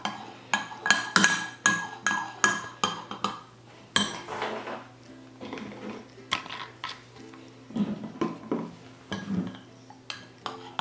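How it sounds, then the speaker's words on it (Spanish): A spoon stirs a collagen face mask mixture in a bowl, producing a rapid series of clinking, scraping taps against the bowl, close and steady, sometimes spaced out. "Lo vamos así a revolver."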